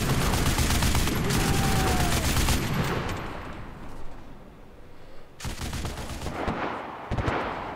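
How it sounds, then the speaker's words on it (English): Heavy machine gun fire in the Enlisted battlefield game, dense rapid bursts filling the first few seconds, then a quieter lull of distant battle noise before more loud gunfire erupts near the end. "there's a HMG somewhere on top"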